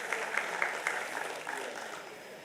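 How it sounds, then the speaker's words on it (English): Audience applause in a convention hall for a departing guest, a steady, moderately quiet patter of many hands with a few sharper claps standing out near the start before it gently tapers. "Can we have a huge round of applause for Pradeep Kumar Das"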